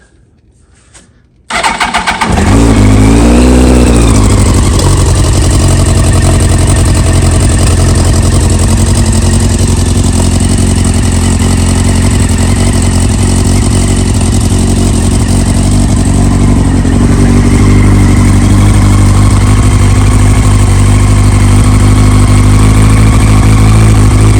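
A Yamaha R1 sport motorcycle with dirty carburetors and the choke on cranks briefly, then catches and roars into a loud, steady, close-up idle that runs unbroken to the end.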